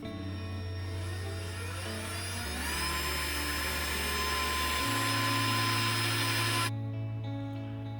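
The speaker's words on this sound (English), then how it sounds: "I want to drill 2 new holes roughly right around here so that I can mount this thing just a little bit higher." A power drill bores new mounting holes for an ARB bull bar on an FJ Cruiser, a steady high whine with shifting pitch steps through the run, loud and close, then cutting off near the end.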